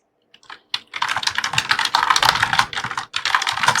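Rapid typing on a computer keyboard, close and crisp, in dense bursts of key clicks with a couple of short pauses and no talking.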